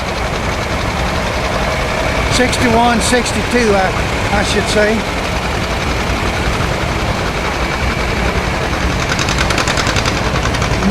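A Ford 3020 tractor's four-cylinder inline engine runs at a steady idle throughout, while someone talks over it for a few seconds.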